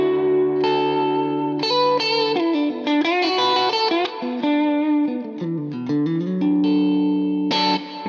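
Cort G290 FAT II electric guitar in pickup position two, a bright split-coil tone with light effects and reverb, playing sustained notes, bends and quick melodic runs, loud and close.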